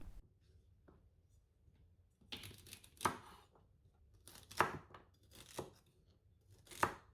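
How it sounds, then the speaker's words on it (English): A knife slices celery on a chopping board, giving a handful of crisp, close cuts that come in irregular bursts, separated by brief quiet gaps. "Remove the leaves and ends from the celery, then, you've guessed it, slice that too."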